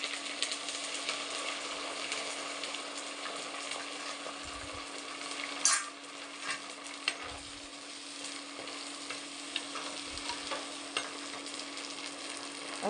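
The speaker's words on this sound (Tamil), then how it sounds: "வெங்காயமும் பூண்டு 2 ஒட்டுக்கா போட்டுக்கலாம்." Onion and garlic fry together with curry leaves and mustard seeds in a pan, giving a soft, steady sizzle with occasional stirring clicks and one sharper clatter, quiet and close with no voices.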